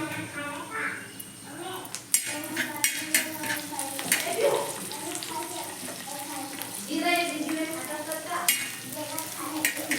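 Chillies being added to a hot pan and fried, with steady sizzling, stirring and occasional metal clinks, close by, while someone talks over the cooking.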